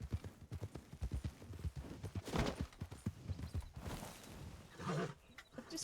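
A horse walking across ground in a Wild West video game gives a steady run of clip-clopping hooves, close and fairly quiet, with a few louder scuffs and thumps mixed in.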